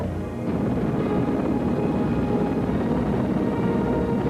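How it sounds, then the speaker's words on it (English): Helicopters hover near the burning MGM Grand casino hotel in Las Vegas in 1980, a continuous, loud, low rotor and engine roar that holds steady throughout with no voices. "the helicopters also created a great deal of confusion, noise, and blowing debris"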